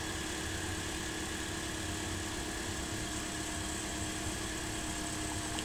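A Toyota Altis engine idles during an automatic transmission fluid flush, giving a steady, even, low mechanical hum and rumble that runs unbroken throughout with no voices.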